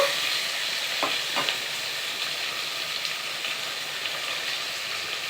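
Tomatoes frying in a pan for lapsi rava upma give a steady close sizzle throughout, broken by a couple of brief scraping stirs near the start, with no voices.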